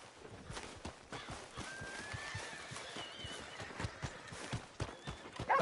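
Clip-clopping hooves of a horse in Red Dead Redemption 2, a steady, soft rhythmic patter of hoofbeats that stays fairly quiet and even throughout, with a faint whinny-like tone over it.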